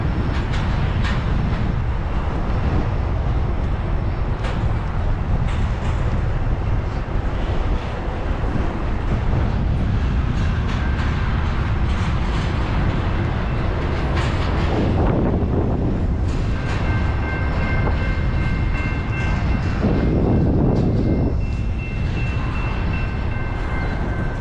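A train rumbles past a railroad crossing near North Gainesville, Texas, a loud, continuous low roar and clatter of rail cars with brief high tonal squeals near the end, heard close by with wind buffeting the microphone.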